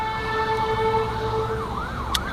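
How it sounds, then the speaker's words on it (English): An ambulance siren wails in repeated rising and falling sweeps, moderately distant, over a low traffic rumble near a park and graveyard in Hickory, North Carolina, with no voices. "Ambulance coming by somewhere."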